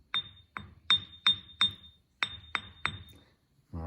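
A plastic object taps a bench grinder wheel in a ring test. Eight or so sharp, close knocks each leave a brief, faint high ding, spaced unevenly, with a louder noise starting at the very end and no speech.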